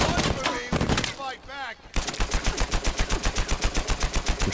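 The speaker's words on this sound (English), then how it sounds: "I'm shooting a girl, man." Automatic gunfire in Uncharted 4 multiplayer, a fast steady burst of loud shots running through the second half, preceded by a few scattered shots and brief voice-like sounds.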